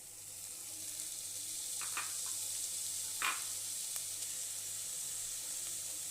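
Crushed spice paste sizzles in a hot pan with onions while a spinach thoran is cooked, a steady frying hiss running throughout with a couple of brief stirring scrapes near the middle.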